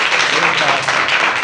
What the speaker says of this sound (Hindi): तालियां बजा दो गुड़िया के लिए।